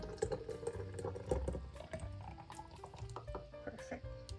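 Homemade Jamaican strong back punch made from carrot and potato being poured into a container, a steady liquid fill running for several seconds beneath faint background sounds.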